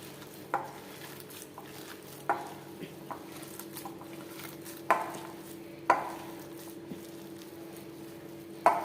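Mashed jackfruit worked by hand with onion, green chilli, ginger and curry leaves, soft squishy kneading over a low hum, with a handful of sharper wet slaps and taps spaced irregularly.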